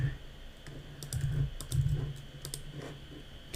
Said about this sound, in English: we should be able to now start typing stuff in our function